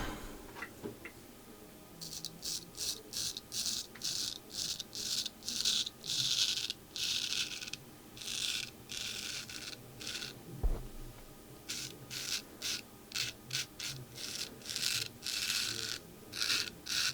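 Rhythmic rasping strokes of a straight razor blade with a hollowed bevel scraping across skin, short bursts repeating in steady sequence, close and crisp, with a brief pause midway.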